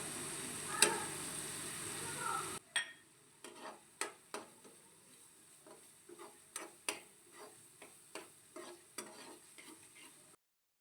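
Spice masala frying in oil in a pan for a halwai-style sour-sweet petha pumpkin curry, a steady sizzle with a run of sharp, rhythmic stirring clinks and scrapes against the pan, close up.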